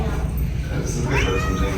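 A caged cat at a cat cafe meows close by, a drawn-out rising call over a low background hum, with a person's soft voice nearby.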